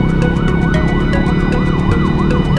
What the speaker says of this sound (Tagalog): pagka may narinig tayong ambulansya, pakinggan natin mabuti kung saan nanggagaling